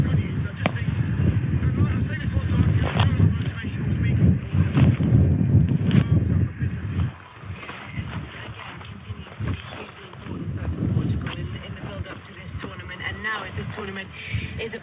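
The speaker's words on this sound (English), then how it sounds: "it is quite windy" Gusty wind sweeps across an exposed moorland camp spot, buffeting the microphone with heavy low rumbling that surges and eases, while voices talk over it.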